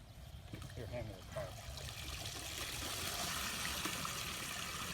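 Water trickles and dribbles steadily out of a soaked golf bag just pulled from a golf course water hazard, a soft continuous pouring that grows slightly fuller over several seconds.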